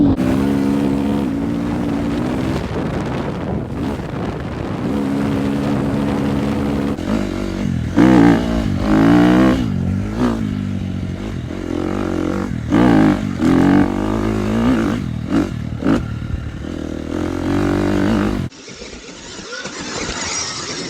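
A KTM motorcycle engine runs steadily while riding up a mountain, loud and close throughout, with revving swells in the middle before it cuts off near the end.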